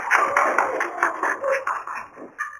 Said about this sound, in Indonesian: tepuk tangan untuk kelompok 2 dan kelompok 4